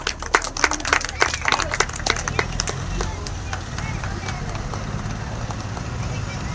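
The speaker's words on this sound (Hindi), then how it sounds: "जोरदार तालियां बजाएं प्लीज।" Audience at an Apollo Tyres health care centre inauguration for workers in Transport Nagar, Narwal, Jammu breaks into loud crowd clapping, with sharp claps early that settle into steady sustained applause while voices carry underneath.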